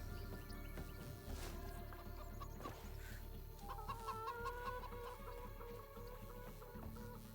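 Video game chickens clucking over a steady background of game ambience and music, quiet and continuous with repeated short clucks, no talking.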